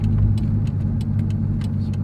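A Corvette fitted with twin STS GT32 turbochargers idles close up, a deep steady engine rumble with faint ticking and clicks above it, no voices.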